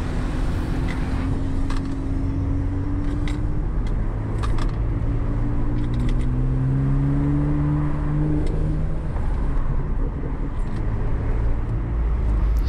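A Porsche 911 991.2 GTS exhaust in its burbling mode while driving, a steady low engine drone with gently shifting pitch and scattered faint pops and crackles, no talk.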